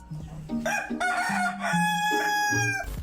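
An Ayam Cemani, the all-black chicken breed from Java, crows loudly and close, giving a drawn-out rooster call with rising and falling pitch steps and no talk over it.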